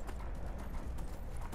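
Horse hooves clip-clop steadily in the video game Skyrim, a continuous rhythmic stream of close, fairly loud hoof falls over a low rumble, with no voices.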